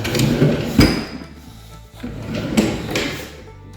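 A drawer on a custom cabinet slides along its runners and closes, with two distinct knocks about two seconds apart between stretches of rolling, sliding noise, close and moderately loud.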